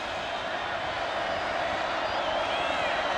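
Dense, steady roar of a large football stadium crowd cheering at an Oklahoma Sooners vs BYU Cougars college game, a broad continuous wash of voices holding level throughout.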